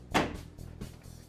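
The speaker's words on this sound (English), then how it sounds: "you're gonna want to shut the microwave" A microwave oven door swings shut with a single soft thud, followed by a faint clatter and light rattle in a quiet kitchen.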